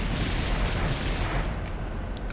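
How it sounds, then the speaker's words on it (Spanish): Continuous rumbling blasts and booms fill the clip, a dense, loud barrage of explosion sounds with no pauses, like a battle raging in the bullet-hell shooter game Rolling Gunner. "Las pinches explosiones bien chingonas."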